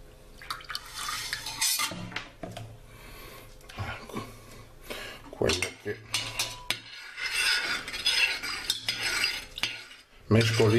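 A spoon scrapes and clinks against a metal pot while stirring milk and yogurt for homemade yogurt, irregular rubbing strokes and taps up close, with no speech.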